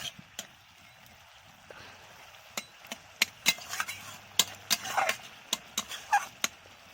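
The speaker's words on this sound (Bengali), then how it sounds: "নাড়াচাড়া করে নেব।" A spoon scrapes and clicks against a pan while small fish are stirred into a simmering curry gravy, with irregular sharp taps and soft scrapes over a quiet kitchen background.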